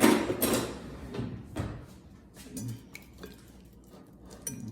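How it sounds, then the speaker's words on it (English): Baking batter is whisked in a bowl, giving a few clinks and scrapes of metal against the dish. The sounds are strongest at the start, then turn into softer, scattered taps. "Now we gotta whisk it together."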